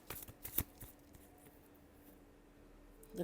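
Tarot cards being shuffled by hand, a few quick papery riffles and slaps near the start and another at the end, close, with quiet pauses between.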